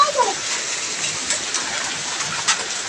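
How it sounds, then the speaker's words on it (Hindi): Heavy rain pours down in a dense, steady hiss, loud and enveloping, with a few slightly stronger bursts. "कितना बारिश हो रहा है"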